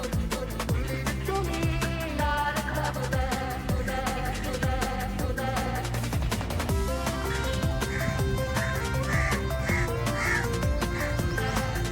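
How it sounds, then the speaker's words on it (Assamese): Crows caw overhead at the Assam State Zoo, harsh repeated calls standing out against a steady dense backdrop of insects and other bird noise. "তো ওপৰত কাউৰী"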